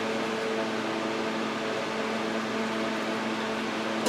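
Water boiling in a pot on the stove, salted with olive oil, ready for pasta, gives a steady, continuous hiss and low bubbling rumble, close by with no talk.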